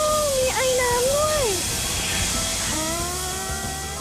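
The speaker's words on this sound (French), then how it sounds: "Et voilà qu'arrive une locomotive à vapeur" A steam locomotive pulls into Chichibu station in Japan, giving off a loud, steady hiss of steam over low rumbling. Voice-like tones rise and fall in the background.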